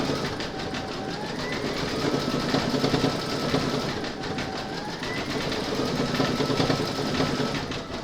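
A sewing machine runs continuously, doing decorative stitching on a crazy patch mug rug, a close, steady mechanical hum and rapid needle chatter with a slight rise and fall in speed.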